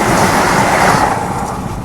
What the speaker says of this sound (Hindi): थोड़ा लेट हुआ मैं क्रॉसिंग लेने में, निकल गई वाराणसी वंदे भारत।